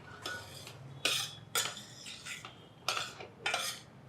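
Semolina being roasted in ghee in a pan for a Dasara Navaratri offering: a spoon scrapes and clinks against the metal pan in several bright, close strokes with short pauses between them, and no voices are heard.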